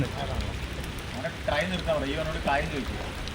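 Steady rain falls on a rainy football day, making a constant broadband hiss throughout, while a person talks over it.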